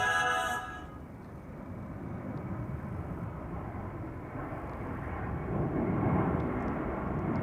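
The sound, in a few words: KLM Airbus A330-200 taking off from Amsterdam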